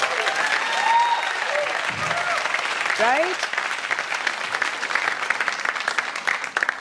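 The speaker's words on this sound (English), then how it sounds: "So let's have like a round of applause just for ourselves." An audience bursts into sustained applause at the start of a talk show, the clapping dense and lively throughout, while a speaker briefly talks over it.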